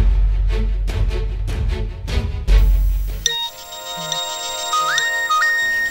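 A mobile phone ringtone plays, a bright electronic melody of repeated tones and rising glides over a steady bed, following a loud burst of other music at the start, with no talking.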